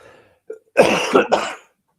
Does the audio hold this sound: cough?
yes